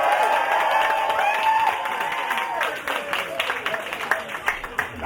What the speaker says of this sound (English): Nice cheer.